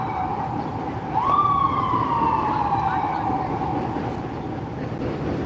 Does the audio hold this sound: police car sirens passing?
yes